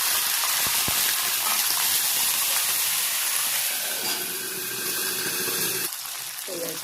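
Water poured into hot tempering (vaghar) with chillies, gas off: a loud, dense hiss and steam rush that softens near the end with light bubbling, while a voice talks faintly.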